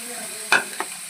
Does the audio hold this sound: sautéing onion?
yes